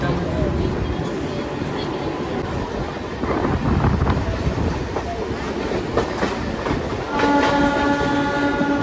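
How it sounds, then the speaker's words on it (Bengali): A Howrah–Puri local train runs at high speed with a loud, continuous rumble and rattling wheels. Near the end a long horn blast sounds, and people talk faintly under the noise. "আমাদের ট্রেন এখন 96-98 স্পিডে কিন্তু ছুটছে"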